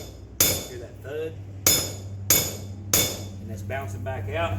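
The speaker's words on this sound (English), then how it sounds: "we're going to hit it with the hammer until we feel it bottom out" Four sharp metallic hammer strikes ring out at uneven intervals, close by, driving a seal into a Mercruiser Alpha One Gen 2 outdrive, with someone talking between blows over a low steady hum.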